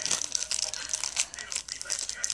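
Plastic bag from a toy blind pack being torn open by hand without scissors, giving a brief close run of crinkling and tearing rustles.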